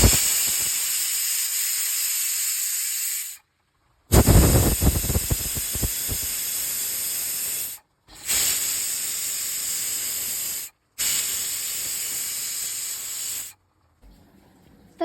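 A pressure cooker on the stove whistles in long, loud hissing bursts of steam, four sustained blasts separated by brief silent gaps, the cooker's automatic whistle counter at work.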